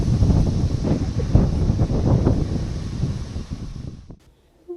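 Wind buffets a microphone loudly on a farm with heavy low rumbling gusts that suddenly drop away to near silence at the end.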